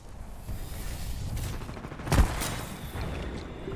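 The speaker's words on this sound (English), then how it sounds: "Oh my god, he's using frag grenades." Frag grenades go off in a video game firefight: a steady wash of combat noise peaks in one loud, sharp blast about midway, then drops back to a constant rumble.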